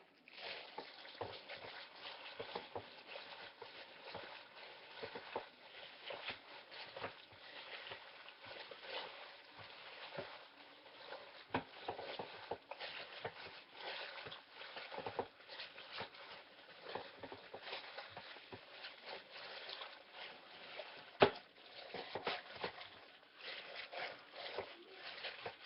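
Hands inside plastic bags squish and knead a raw turkey meatloaf mixture, producing soft irregular crinkling, rustling and wet squelching, quiet and close, with occasional louder plastic crackles.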